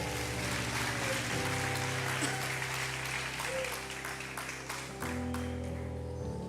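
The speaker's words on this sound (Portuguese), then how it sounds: "aplauda o Senhor e fica de pé" A church congregation applauds steadily in a dense, even patter, with a sustained keyboard or organ tone underneath and a brief dip near the end.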